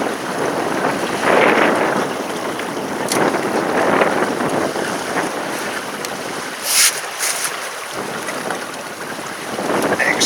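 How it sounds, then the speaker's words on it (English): Steady wind gusts and rushing air buffet a sailboat out on open water during a solo sail, with waves faintly audible beneath the continuous, fairly loud roar and no talking. "and the wind is picking up"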